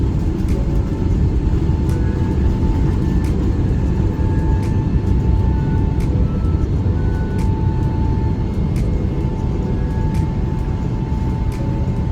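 A Philippine Airlines airliner taking off, heard from inside the cabin as a loud, steady engine roar and rumble that holds throughout, with faint periodic clicks and no talking.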